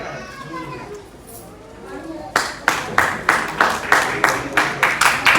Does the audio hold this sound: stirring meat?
no